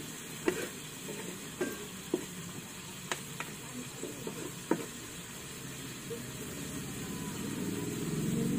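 Tomatoes sauté quietly in a pan, a soft steady sizzle with a handful of sharp utensil taps and scrapes, the frying hiss swelling slightly toward the end.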